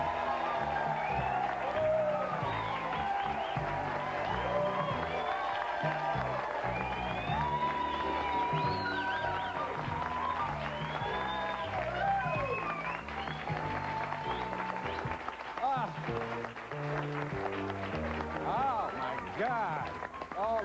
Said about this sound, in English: I feel like I'm milking the applause.